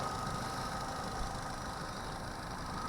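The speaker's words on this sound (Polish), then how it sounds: "No silnik czysty, pracuje równo." An Opel Astra GTC petrol engine idles steadily and evenly, a low, constant mechanical hum with no voices.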